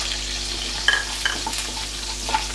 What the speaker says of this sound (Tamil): ஸோ ஆயில் ஹீட் ஆனவுடனே ஃபர்ஸ்ட் வந்து நான் அந்த கரம் மசாலாவை ஆட் பண்ணிக்கிறேன்